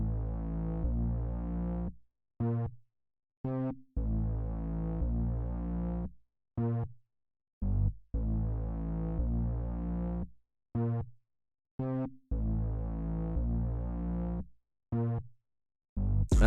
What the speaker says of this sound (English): the finished bass line is sounding like this.